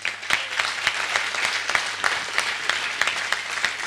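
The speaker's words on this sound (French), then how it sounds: "Je voudrais à vous tous que vous tous vous l'applaudissez." An audience at a hilloula gathering in Marseille claps in a fairly sparse, rhythmic pattern, with distinct individual claps standing out over a low background hum.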